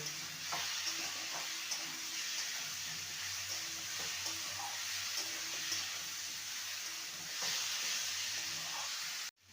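Fried potato and taro stirred into masoor lentils and spices in a hot pan, giving a soft continuous sizzle with occasional faint scraping strokes of the spoon.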